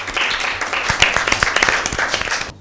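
Applause for a correct answer on a Bible quiz show, a dense run of claps that holds steady throughout and comes through loud and close.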